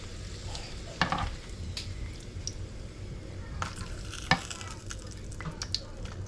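Chili peppers frying in a pan with a steady close sizzle, a spoon stirring now and then, and a few sharp pops as the seeds burst.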